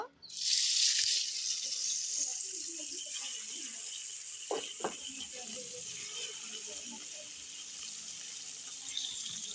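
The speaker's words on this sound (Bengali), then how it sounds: "তেল গরম হয়ে গেছে মাছ দিয়ে দিব" Koi fish frying in hot mustard oil in a wok gives a loud, steady, close sizzle that runs the whole time, with a couple of brief clatters midway.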